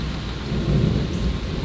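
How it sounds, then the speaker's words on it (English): Low rumbling thunder under steady rain during a severe thunderstorm, a brief continuous roll heard outdoors. "Listen to that thunder."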